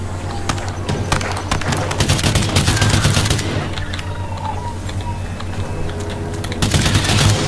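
Rapid AK rifle gunfire in the Earthfall shooter game, with loud dense bursts of shots crackling almost continuously, pausing briefly near the middle before resuming.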